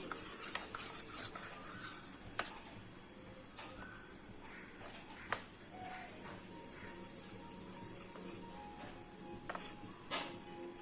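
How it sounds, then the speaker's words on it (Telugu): A spoon stirring milk with vanilla-flavoured powder in a bowl to work out lumps, repeated light clinks and scraping against the bowl over a soft background hiss. "దీన్ని ఇప్పుడు మిక్స్ చేసుకుందాం ఉండలు లేకుండా బాగా మిక్స్ చేసుకోవాలి"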